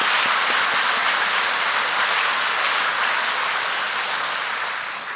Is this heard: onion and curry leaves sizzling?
no